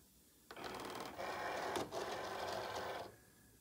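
A Cricut cutting machine draws in a loaded cutting mat with a steady mechanical whir that runs for about two and a half seconds, with a brief dip midway, close and alone.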